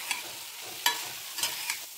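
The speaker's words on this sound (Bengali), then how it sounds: "আর আস্তে আস্তে জলটাও শুকিয়ে যাবে, একটু ভাজা ভাজা করে নিতে হবে।" Chopped banana stem stir-fries in a pan as thor chechki, with a soft constant sizzle broken by a few sharp scraping stirs of the spatula, quiet and with no talking.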